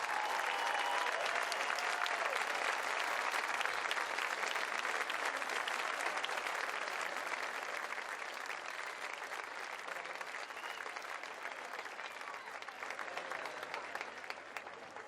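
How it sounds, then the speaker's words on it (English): At the CrossFit Games arena, a large crowd applauds steadily in a continuous, dense wash of clapping that holds for the full stretch and thins only slightly toward the end. "let us give you a round of applause"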